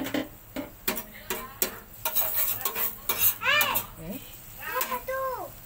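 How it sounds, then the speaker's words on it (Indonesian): Food being stir-fried in a pan for a Malaysian fern shoot dish, with clattering of utensil against the pan and steady sizzle, while children's voices and chatter come through in the background. "Kita tumis, kita goreng dia sampai dia naik bau dan warna kuning kekuningan."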